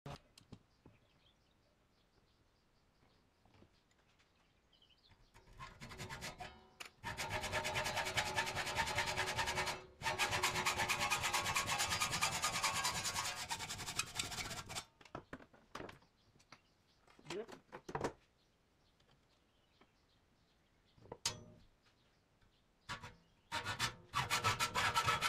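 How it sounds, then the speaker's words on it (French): Metal bars for a float-tube rod rest are sawn by hand in two loud bursts of rasping back-and-forth strokes, separated by quiet handling knocks and brief pauses. "Il va me falloir découper les barres."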